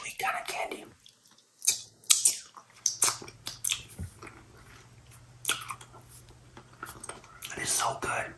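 Close, wet chewing of a Werther's Original caramel apple filled hard candy, with sticky smacks and clicks in irregular bursts, interspersed with soft whispering.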